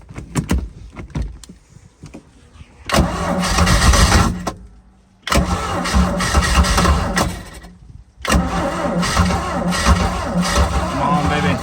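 A Rinker V170 boat engine cranks in bursts, stalling between attempts before catching and running loudly with a rough, uneven idle, close by.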